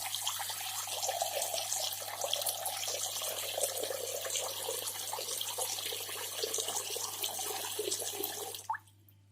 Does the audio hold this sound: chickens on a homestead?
no